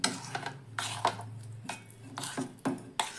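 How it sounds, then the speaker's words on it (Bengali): Soaked semolina spooned into a mixer grinder jar, with a run of soft clinks, scrapes and knocks of utensil against jar, close and fairly quiet with no voice. "আমি এবার দিয়ে দিচ্ছি একটা মিক্সিং জারের মধ্যে সুজিটা"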